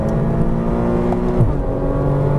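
A Porsche Cayman R accelerates out of a corner on a racetrack, its loud engine pulling steadily with a rising harmonic drone and a brief gear-change dip, heard close from inside the car.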